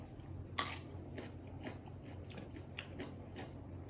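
Fresh boiled blood clams are chewed with crisp, crunchy bites, a sharp crunch at the start followed by a steady run of softer chewing crunches, close and quiet with no talk.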